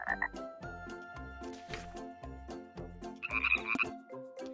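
Frogs croak at a pond in a steady, rhythmic chorus of repeated low calls, with a few higher chirps layered on top.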